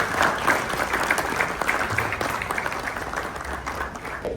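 Applause from a conference audience, a steady wash of many hands clapping that holds at a moderate level and tapers slightly toward the end, with a faint low rumble in the room.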